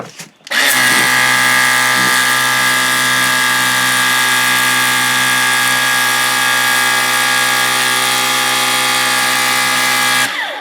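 A Ryobi Power Cleaner in turbo mode scrubs lightly mildewed wood, a steady high-pitched motor whine that starts abruptly, runs loud and constant for about ten seconds, then cuts off.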